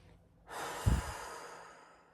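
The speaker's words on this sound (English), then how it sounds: "it's really helpful to take a few deep breaths with loud exhales" A single deep breath with a loud, drawn-out exhale, close and breathy, swelling quickly then fading slowly over about a second and a half, with no talking.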